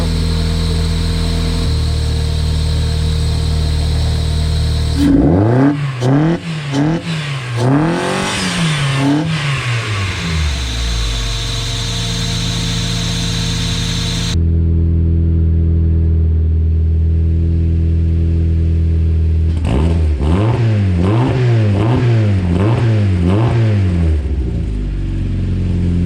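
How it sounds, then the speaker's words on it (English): A Mazda Miata fitted with a budget eBay turbo kit, a plain elbow in place of an intercooler, idles steadily, then is revved hard in two separate bursts of rising and falling engine roar, loud and close. "You can really feel pumping out some air when you rev it"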